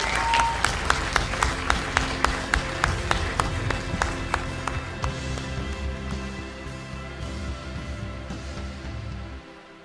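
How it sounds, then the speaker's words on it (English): A large crowd gives a sustained round of applause at a live Sunday service event, dense clapping with a few sharp individual claps early on, holding steady for most of the time before cutting off abruptly at the end. "I'd like a huge round of applause for their hearts being so open."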